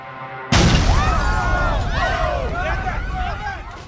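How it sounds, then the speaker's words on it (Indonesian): A big explosion rips through a building next to a bank in a film, hitting with a sudden loud blast. Sustained roaring rumble, crackling debris and whining, wavering tones follow. "telah terjadi ledakan besar di gedung sebelah bank"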